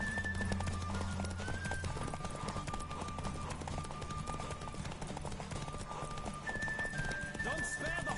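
Horse hooves clip-clop rapidly through a race in The Witcher 3, steady galloping beats under constant game ambience, with an occasional whinny and a faint speaking voice.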